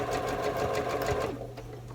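A home sewing machine stitches fabric in a steady, close mechanical whir with rhythmic needle ticks, then slows and stops near the end, leaving a low motor hum.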